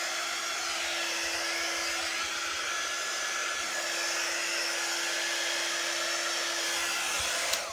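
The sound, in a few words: dryer blowing to dry a transfer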